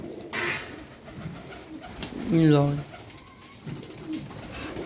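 Pigeons in a breeding setup give one clear throaty coo with a falling, wavering pitch in the middle, against a quiet background with faint scattered noise and a brief spoken word.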